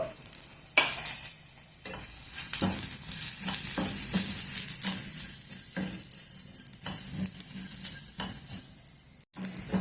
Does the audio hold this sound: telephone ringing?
no